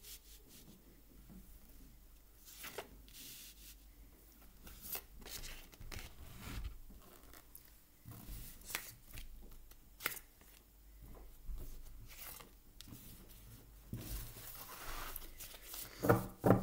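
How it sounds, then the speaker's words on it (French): Tarot cards being shuffled and drawn by hand, a run of soft papery rubs and riffles with brief louder flicks, close and fairly quiet, with no talking. "Je tire les cartes et je vous explique le tirage dans quelques secondes."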